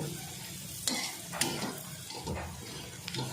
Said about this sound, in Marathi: आता आपण हळद टाकूया तिखट मसाला आणि गरम मसाला आणि परतायचं